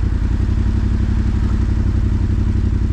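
A motorcycle engine idles close by with a steady, loud, throbbing rumble and no voices.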